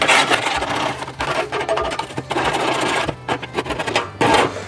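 Residue is scraped off the inside of a Pitboss pellet grill in a close, loud, rhythmic run of rasping metal strokes with short pauses between them.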